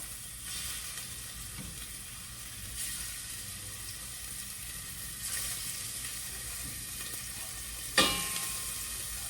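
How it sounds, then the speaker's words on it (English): Pot roast meat searing in a hot pan makes a soft, steady sizzle with occasional swells and one sharp clatter near the end, heard alone without speech. "let's sear these last few bad boys"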